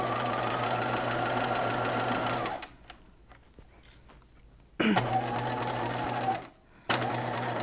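A sewing machine stitches a gown seam, running off the fabric edge in loud steady bursts: a long continuous run, a pause with faint handling noise, then two more short runs close by.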